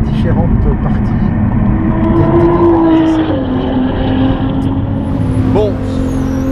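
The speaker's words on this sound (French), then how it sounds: "le bruit de la R8" An Audi R8 engine drones loudly and continuously on a race track during a Pirelli PZero Experience driving session, its pitch rising and falling with acceleration, while people talk over it inside the car.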